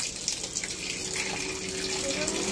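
Kitchen tap water runs in a steady, close gush over raw meat being washed, continuous and unbroken throughout with no speech.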